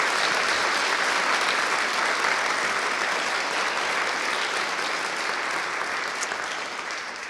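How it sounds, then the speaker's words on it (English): A large audience at a university event at UVA applauds steadily, a dense, sustained wash of clapping that holds strong throughout and fades only slightly toward the end. "So let's give them a big round of applause."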